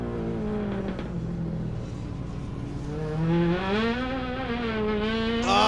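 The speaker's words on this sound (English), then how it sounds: "you gotta love the wheel spin coming through the corkscrew" A touring car at the 2003 Laguna Seca World Challenge race, its engine revving and climbing in pitch as the wheels spin through the Corkscrew, loud and close with a sharp squeal at the end.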